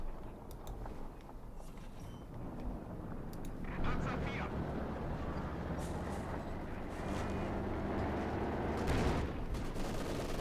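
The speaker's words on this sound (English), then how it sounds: "Katyusha rocket launcher in the BM-13. There we go" A Katyusha BM-13 rocket launcher fires in Company of Heroes 2, sending out a rushing salvo of launches and distant blasts over a continuous battlefield rumble, with a commentator talking throughout.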